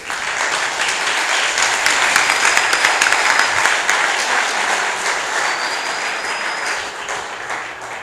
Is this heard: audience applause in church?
yes